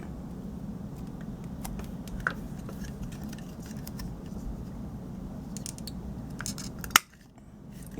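Scissors cut red and gold fabric scraps for Christmas embellishments: a run of soft, close snips and crisp ticks, ending in one sharp, louder cut before quiet.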